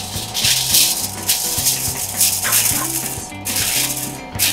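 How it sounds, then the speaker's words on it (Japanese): Aluminium foil being laid over a pan in a Japanese restaurant kitchen, crinkling and rattling loudly up close, with steady hissing and clattering underneath. "アルミホイルを引いていきたいと思います。"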